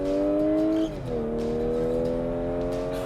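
A 2015 Audi SQ5 accelerating hard in a straight line, its engine tone climbing, dipping briefly at a gear change, then rising again; loud, close and continuous with no talk.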